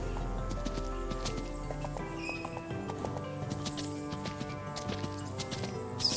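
Horse hooves gallop in a rapid, steady clip-clop across a video game landscape, layered over continuous game music.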